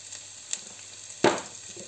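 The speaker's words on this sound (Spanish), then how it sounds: "Una vez tostado el ajo, añadimos la cebolla." Onion is dropped into a pan of hot oil with toasted garlic: a low, steady sizzle, then a sudden burst of louder frying as the onion lands, fading back down.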